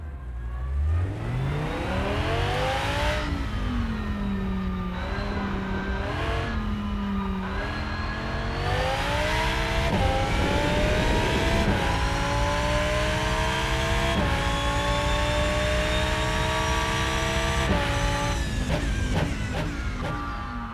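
Race car engine heard from an off-board view in the Rennsport racing video game, loud and continuous, with rising and falling revs, upshifts and sustained high-pitched engine tone across the whole stretch, no talking.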